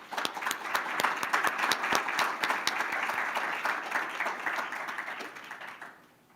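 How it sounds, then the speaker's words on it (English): Applause for a scholarship recipient at an induction ceremony, a crowd clapping steadily and fairly far off, sustained for several seconds before fading out at the end. "Let's give Hung a round of applause."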